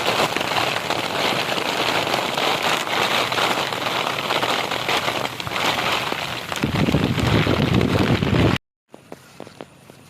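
Steady rain shower pours down in a rural village, a dense continuous patter with some wind buffeting, loud and close, then cutting off abruptly near the end to a quieter scene.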